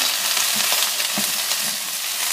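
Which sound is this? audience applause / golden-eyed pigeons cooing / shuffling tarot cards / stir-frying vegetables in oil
stir-frying vegetables in oil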